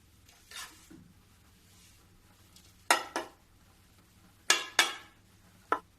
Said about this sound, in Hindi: अब मैं इसको अच्छे से मिलाऊंगी।